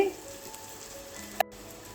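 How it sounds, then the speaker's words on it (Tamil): Cabbage with a little turmeric paste fries in a pan with a soft, continuous sizzle, interrupted by one brief sharp clink near the end. "வதக்கி கொடுத்துருங்க கொஞ்சமாக மஞ்சள் பேஸ்ட்டு"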